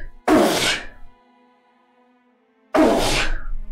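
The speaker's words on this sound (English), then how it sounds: "I'm about to sneeze." A single loud, close sneeze bursts out, and after a pause of about two seconds a second sneeze just as loud follows.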